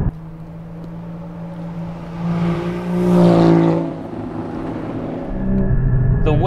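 Porsche 981 Cayman GT4 flat-six engine heard from inside, droning steadily before swelling into a strong rev that peaks and falls away, then building again with a tight mechanical whine.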